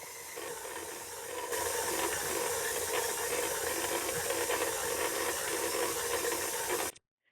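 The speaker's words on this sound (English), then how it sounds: "Now I've placed the dough hook on the mixer and continue to get it well incorporated." A stand mixer fitted with a dough hook kneads pretzel dough in a steady, continuous mechanical whir and grind, loud and unbroken for about seven seconds before cutting off abruptly.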